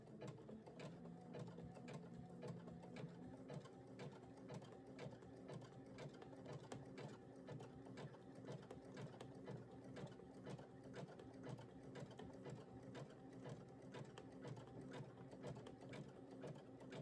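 A sewing machine stitches at a fast, even rhythm throughout, a steady mechanical rattle of needle strokes with a faint underlying motor hum, close and continuous.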